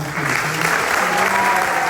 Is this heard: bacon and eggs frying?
no